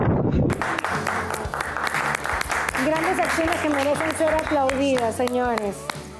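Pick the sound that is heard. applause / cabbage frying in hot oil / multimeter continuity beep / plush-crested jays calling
applause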